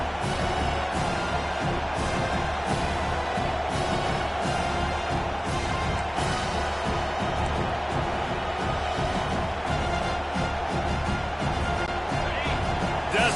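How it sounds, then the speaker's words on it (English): A football stadium crowd roars steadily and builds on third down, a dense, loud wash of cheering with a play-by-play voice talking over it. "Decibels rising as the crowd gets behind this defense on third down"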